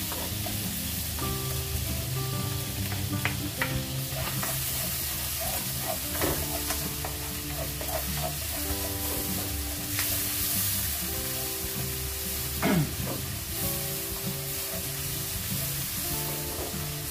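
Onions sautéing in a pan for a Filipino chicken curry, a steady close sizzle with scraping stir strokes, while quiet music plays underneath.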